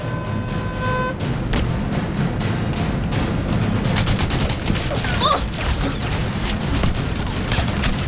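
Gunfire crackles through a Hindi-dubbed action film, dense bursts of shots and booms over a constant loud rumble, and the firing grows heavier partway through.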